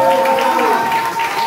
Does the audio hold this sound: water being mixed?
no